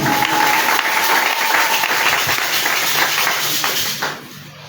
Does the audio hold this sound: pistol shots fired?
no